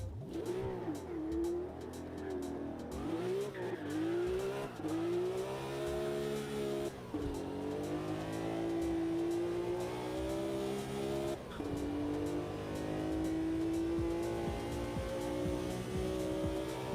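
Race car engine in Automobilista 2, loud and close, revving hard with repeated throttle blips, rising pitch sweeps through gear changes and brief drops, no voices.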